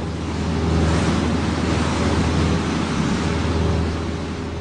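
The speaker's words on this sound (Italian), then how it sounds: "Il vento soffiava impetuoso, sbatacchiando l'idrovolante di qua e di là." Strong wind roars steadily, a loud, dense rushing noise like gusts buffeting outdoors, continuous throughout with no voices.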